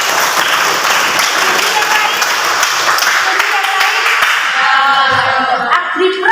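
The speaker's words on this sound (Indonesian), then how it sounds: "Kita kasih tepuk tangan." Audience clapping at a teachers' training presentation, a dense burst of applause that fades toward the end as a voice and tonal sounds take over.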